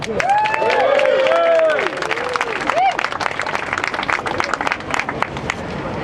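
Crowd applause with some cheering at a London march for a woman flooded out of her home, steady clapping partly under a voice, with a few tonal whistle-like sweeps early on.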